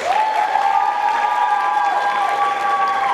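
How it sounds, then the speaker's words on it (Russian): Enthusiastic applause from a large crowd at a university faculty concert fills the space, sustained clapping with a steady tone running beneath it. "И наши бурные аплодисменты прямо сейчас."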